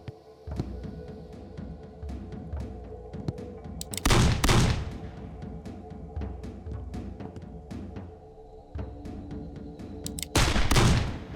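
Gunfire rings out in the video game Blood will be Spilled: sharp, scattered shots crack across a quiet background, with two loud dense volleys of rapid fire, one at the middle and another near the end.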